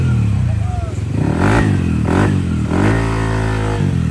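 Yamaha Aerox V2 scooter engine with an aftermarket pipe and new CVT parts, revving up loudly in several close bursts over a constant idle drone, while someone talks over it.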